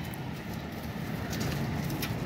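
Green pigeons kept for flying competitions coo softly in low, murmuring tones, with faint background noise around them.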